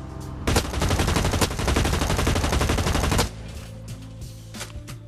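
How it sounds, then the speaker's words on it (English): Full-auto assault rifle fire in the shooter game Blacklight Retribution: a dense, loud, continuous burst that empties a magazine in about three seconds, then cuts off into a quieter game background with faint clicks. "this is what happens when you go full auto"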